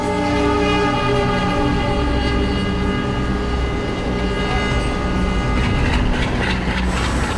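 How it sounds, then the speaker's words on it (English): A train pulls into a station in Mumbai with a loud, sustained horn blaring over rumbling wheels and rail clatter, close and continuous throughout. "You'll see one approaching train to the station."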